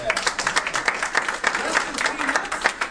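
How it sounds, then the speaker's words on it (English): A group gives itself a round of applause, quick overlapping claps from several people forming a short, moderately loud burst that pulses unevenly throughout. "Give yourself a round of applause."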